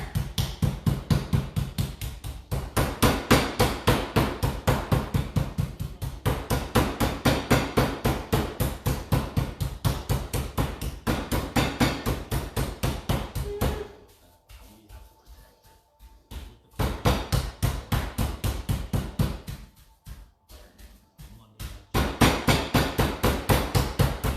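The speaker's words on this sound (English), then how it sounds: "we're going to take our time, pound out these guys a little bit more" Chicken breasts pounded thin for schnitzel with a meat mallet, a fast, steady run of close, loud thuds repeated dozens of times, broken by two short pauses before the pounding resumes.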